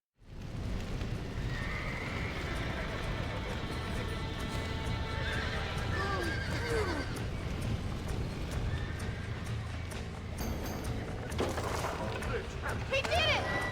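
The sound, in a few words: horses neighing, from video game Red Dead Redemption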